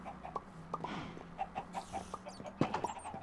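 Chickens clucking in the Minecraft Sky Factory 3 video game, a run of short repeated clucks at an uneven rhythm with one louder squawk near the end, close and clear.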